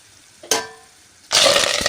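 Peanuts dropped into hot oil for a tempering of mustard seeds and peanuts for puliyogare rice. Two sudden bursts of loud, hissing sizzle sound close by, the second sustained and crackling.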